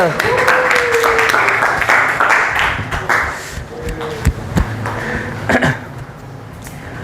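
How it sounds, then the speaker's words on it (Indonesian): Students in a classroom give a short round of applause for a classmate, scattered clapping mixed with voices talking and laughing nearby, the claps uneven and moderately close. "Tepuk tangan dulu buat Nabil."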